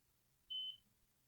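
A blood glucose meter, used to test a cat's blood sugar, gives a single steady electronic beep lasting about a quarter second, clear against a quiet room.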